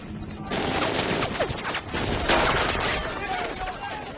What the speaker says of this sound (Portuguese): Os soldados agora são presas fáceis das metralhadoras M42 e seu poder de fogo assustador.